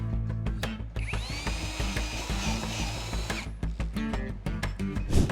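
A Parkside 12 V cordless drill-driver drilling, a close, loud motor whine that rises and holds for a couple of seconds, bracketed by short bursts, clicks and rattling handling noises, with no voices.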